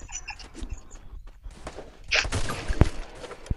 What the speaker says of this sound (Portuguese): Fez um tiro.